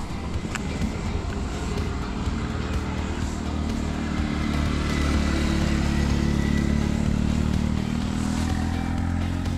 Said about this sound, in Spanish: esta es la moto de mi hermano